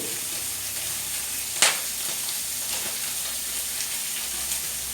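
Chicken sizzles gently in a frying pan, a soft continuous hiss broken by one sharp clank of a utensil early on, with no one speaking.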